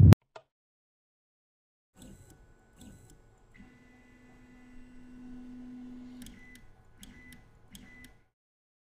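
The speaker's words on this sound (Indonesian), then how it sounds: "Ayo kita kirim ke printer 3D." A 3D printer runs inside the Minecraft video game, giving a steady electronic hum with a sustained tone and scattered light ticks and clicks, moderately loud and alone.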